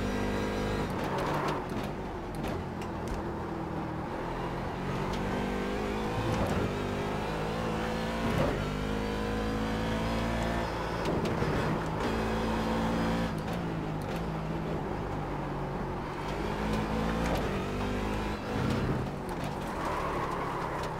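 A Corvette C7 DP race car engine in iRacing at Silverstone roars continuously and loudly for the whole stretch, revving up through repeated gear shifts and dipping as the car brakes. There is no talk over it.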